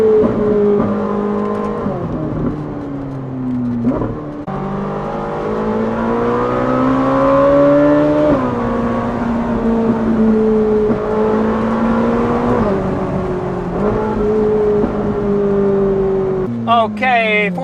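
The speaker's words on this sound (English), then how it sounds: "You get more exhaust noise out back" Ferrari 458 Spider with Valvetronic Designs exhaust and stock downpipes, roof down, its engine droning and rising through steady revs for most of the stretch, with a sharper rev flare near the end.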